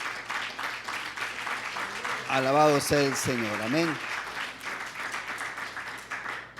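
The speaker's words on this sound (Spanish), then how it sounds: "Dele un fuerte aplauso a Jesucristo." A church congregation applauds throughout, a steady wash of clapping from many hands, while a voice speaks over it in the middle before the clapping carries on alone.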